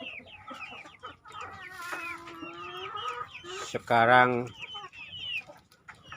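Chickens clucking and calling nearby at evening feeding time, with a rooster-like call standing out, while a person speaks briefly over the birds.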